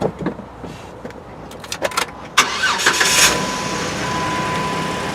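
Jeep Wrangler with a 6-speed manual, its engine starting and settling into a steady moderate idle after a few clicks and thumps, recorded up close with no talking.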